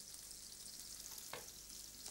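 Garlic fries in a non-stick pan with a steady, gentle sizzling hiss, quiet and close, broken by one short scrape of stirring midway.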